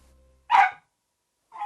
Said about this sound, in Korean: 언제부터 짖었어요, 저렇게?